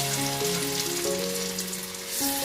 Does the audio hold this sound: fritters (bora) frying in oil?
yes